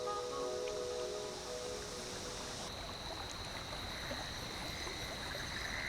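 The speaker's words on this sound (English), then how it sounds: "Sometimes it's nice just to sit by a creek and listen to the wind in the trees." A creek flowing steadily with wind moving through trees in the Big Walk video game, a continuous soft wash of water and rustle with faint higher tones, no voices.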